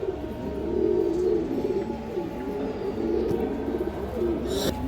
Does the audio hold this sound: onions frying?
no